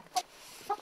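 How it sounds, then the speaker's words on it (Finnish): A rooster of the Finnish landrace chicken breed gives two short, close clucks about half a second apart, on a quiet farm. "Tässä on kukko."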